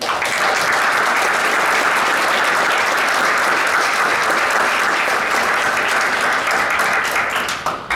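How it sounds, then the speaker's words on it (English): Sustained, dense applause from a crowd, steady and loud throughout, tapering slightly at the very end. "One last round of applause."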